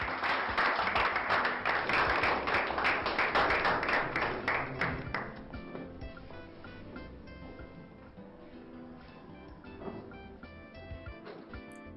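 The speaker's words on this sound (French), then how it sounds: "Continuez d'applaudir s'il vous plaît" Audience applause at a prize-giving ceremony: dense, loud clapping for about five seconds, then thinning to scattered claps that fade toward the end.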